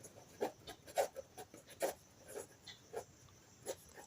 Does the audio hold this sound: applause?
no